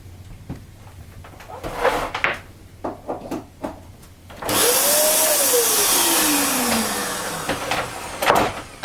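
A Dirt Devil DD1800 vacuum cleaner, fitted with a new motor, whirs up to speed after some handling clatter, its pitch rising and then sliding down as it runs steadily for a few seconds before switching off.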